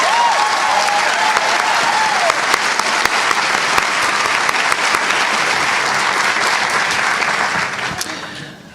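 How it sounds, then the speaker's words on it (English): A crowd at a 2017 high school graduation ceremony applauds the senior class with loud, sustained clapping that holds steady for several seconds and then fades out at the end. "Let's give them another round of applause."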